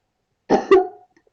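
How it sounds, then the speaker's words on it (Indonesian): A single cough, close and fairly loud, with a short throaty tail and quiet room around it, heard during a seventh-grade math practice session. "Batuk."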